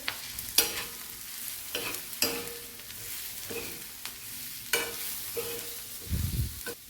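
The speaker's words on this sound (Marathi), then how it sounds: "तेल टाकल्यानंतर छान असं परतत राहायचं" Oil stir-frying in a pan over a low flame, a soft steady sizzle punctuated by regular spatula scrapes roughly every second, close and alone with no talking.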